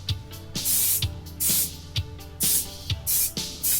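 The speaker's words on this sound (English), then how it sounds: "So basically just getting a thin first coat of primer on." Primer spray paint hissing from an aerosol can onto a guitar body in a workshop, in a series of short repeated bursts about half a second apart, close and fairly loud, with no talking.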